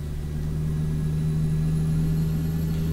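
A Kenworth W900L truck engine drones in the video game Euro Truck Simulator 2, a steady, deep, loud rumble with a strong low hum that holds constant throughout, with no other sounds over it.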